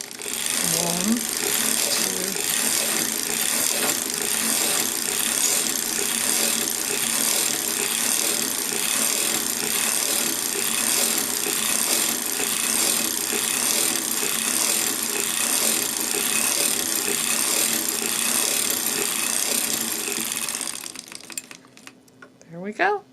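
A hand-cranked circular sock machine runs through knitting rounds, giving a continuous, fast rhythmic clatter and ratcheting that is loud and close, then slows and stops near the end with a few stray clicks.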